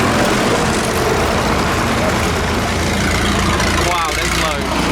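An old tractor idles with a steady, heavy engine rumble, loud and continuous throughout, with no break in the drone.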